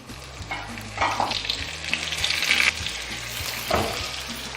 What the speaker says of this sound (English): Nicely melt the butter. Now we'll add the potatoes to it.